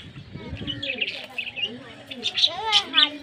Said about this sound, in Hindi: और ये हमारे तोते हैं